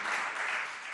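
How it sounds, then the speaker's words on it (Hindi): An audience at a Jain religious Q&A gathering claps to welcome the secretary, a soft, steady wash of applause lasting about a second. "आप लोग जोरदार तालियों से इनका स्वागत करें"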